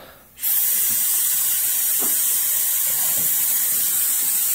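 Compressed air hisses steadily through a brake bleeding tool on a 1984 Porsche 944 NA, a loud continuous broadband rush that starts abruptly and holds without pause.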